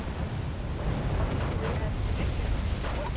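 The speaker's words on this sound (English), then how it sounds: "Internal ammo explosion." Internal ammunition explosion in the war strategy video game Wargame Red Dragon, a loud, sustained rumbling blast with crackling bursts filling the whole stretch.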